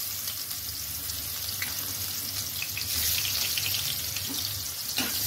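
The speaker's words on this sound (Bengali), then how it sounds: "পেঁয়াজগুলো হালকা ভাজা করে নেব।" Sliced onions frying in mustard oil with a little salt and turmeric in a wok, giving a steady, moderately close hiss and crackle that runs unbroken with a few brief scraping stirs and no voices.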